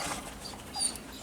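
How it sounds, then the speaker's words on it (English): Puppies whine softly at close range in a short, high, breathy whimper with a thin, faint tone, and no talk over it. "And stop your whining"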